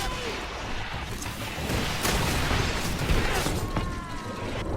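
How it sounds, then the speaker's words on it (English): A grenade explodes in the GreedFall video game, a loud sustained roaring blast with crackling debris that swells and rumbles through the whole stretch, no voices over it. "Watch out! Grenade!"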